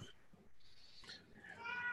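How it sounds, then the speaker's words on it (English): A pet cat meows at home, a couple of short cries in the second half over faint room noise, with a brief earlier call. "Pippin, our cat, is making noise about it."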